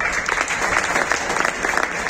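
An audience breaks into sustained, dense clapping at an eye-care fertility clinic event, filling the room continuously without pause.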